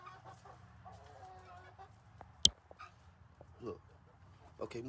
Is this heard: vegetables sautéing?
no